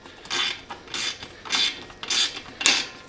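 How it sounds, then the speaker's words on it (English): Ratchet wrench tightening a fender bolt during assembly of an E-Cells Dual Step Star e-bike, heard as four or five separate bursts of rapid clicking, close and fairly loud, with no talking. "tighten our fender bolt up first."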